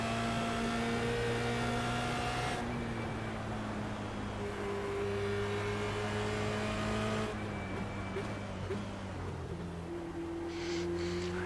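Formula Renault 2.0 single-seater race car on track at Oulton Park, engine droning steadily with shifting pitch as it accelerates and changes gear, continuous and close, with cold tires.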